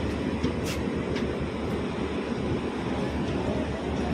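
A train on the Chennai Central to Alappuzha line rumbles steadily by with a continuous low roar and faint rattling, loud and unbroken throughout.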